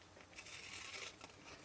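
Long scissors chopping through card stock while making a 6x6 milk carton balloon box, a faint, brief snipping and rustling cut with a sharper snap at the end, close and quiet, no talking.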